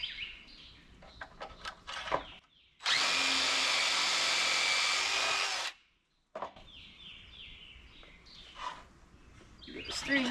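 A power drill bores holes and drives screws into a rustic bathroom vanity built for a 1930s cast iron sink, heard as one loud, steady whirring burst lasting about three seconds, with quieter voices and bird chirps before and after.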